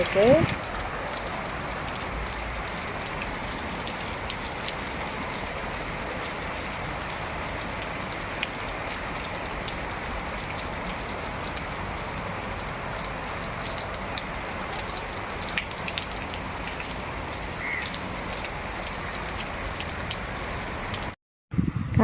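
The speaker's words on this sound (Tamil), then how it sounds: "நல்லா மழை ஸ்டார்ட் ஆகிருக்கு இப்போ தான் ஸ்டார்ட் ஆகிருக்கு" Heavy rain pours steadily in Chennai, a dense, continuous hiss of drops drumming on surfaces close by for about twenty seconds before a brief cut near the end.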